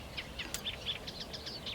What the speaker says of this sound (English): So there's a few warblers calling behind me as well.